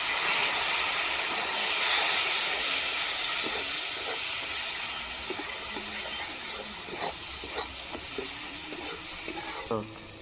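Water splashed onto ginger-garlic paste and spices frying in oil sets off a loud, steady steam hiss and sizzle, continuing for several seconds and slowly easing, with faint stirring and scraping near the end.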